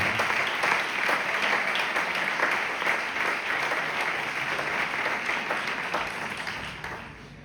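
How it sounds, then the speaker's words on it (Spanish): Loud, sustained applause from a church congregation praising God, dense steady clapping that fills the whole stretch and tapers slightly toward the end. "¿Le podemos dar un fuerte aplauso a Dios, por favor?"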